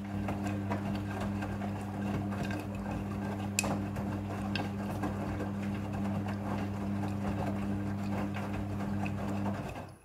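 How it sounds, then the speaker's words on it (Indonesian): A Midea front-loading washing machine rinses with water, giving a steady low mechanical hum with faint ticking and sloshing throughout, running continuously until it cuts off at the very end. "Pada proses pembilasan dengan air, mesin cuci akan mengatur jumlah kebutuhan air secara otomatis."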